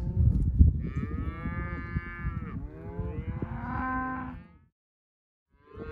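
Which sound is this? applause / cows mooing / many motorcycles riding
cows mooing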